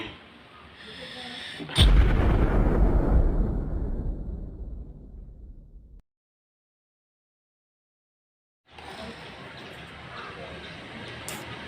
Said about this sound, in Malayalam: ആരിവിടെ പടക്കം പൊട്ടിച്ചേ?